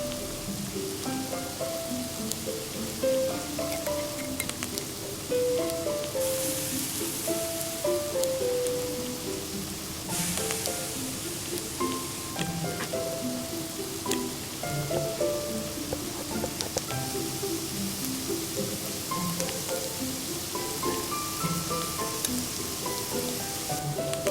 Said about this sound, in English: Keep stir-frying until they're dry.